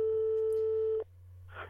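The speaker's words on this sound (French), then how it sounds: "Je téléphone." Telephone ringback tone while placing a call, a steady electronic tone holding for about a second before cutting off abruptly, followed by a brief soft noise.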